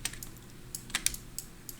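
Keys on a computer keyboard are pressed in a short burst of light, crisp clicks, about eight scattered taps close by in a quiet room.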